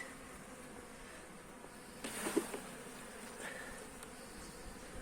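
Honeybees buzz around an opened hive, a faint, continuous hum of many wings with a slightly louder swell partway through and no voices.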